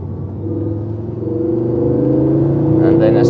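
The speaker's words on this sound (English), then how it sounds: "you just love the noise of the engine as well" A Ford Focus RS500 engine rises steadily as the car accelerates, a loud, close rumbling drone with climbing harmonics that builds over a few seconds.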